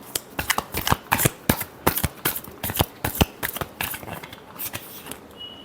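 Tarot cards being shuffled by hand, a quick run of crisp riffling snaps and flutters, close and clear, slowing and thinning out toward the end.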